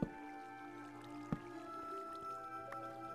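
Flowing water in the Minecraft video game, a quiet steady trickle with a faint hum beneath and a couple of soft splashy taps.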